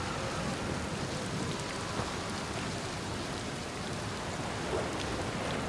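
Steady, dense rain and distant thunder in the video game Outer Wilds, an even wash of rainfall hissing without a break throughout, no voices heard.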